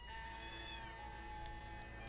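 A cat meows in the 1967 horror film Spider Baby, a drawn-out, fairly quiet cry sustained over steady low room hum and faint background noise.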